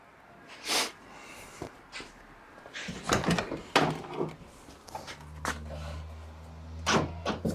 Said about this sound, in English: Let's check the door lock.